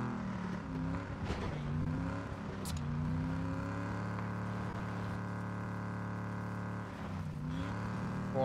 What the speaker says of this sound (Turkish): Bu araba burada ne arıyor?